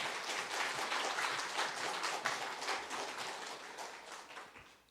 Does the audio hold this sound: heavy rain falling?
no